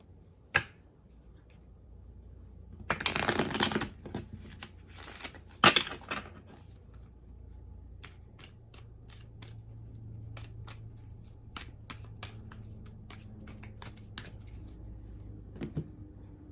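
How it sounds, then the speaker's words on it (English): Cards are riffled and bridged in a quick burst, then a stretch of soft, crisp snaps and flicks as the deck is handled and dealt. "One more good shuffle."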